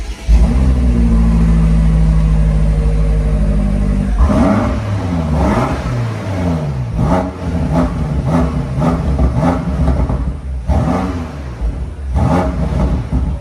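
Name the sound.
BMW M8 Competition 2020 engine starting and revving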